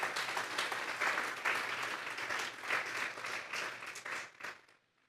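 A church congregation giving a strong round of applause, dense continuous clapping at moderate distance that swells and dips slightly before tapering off into silence at the end.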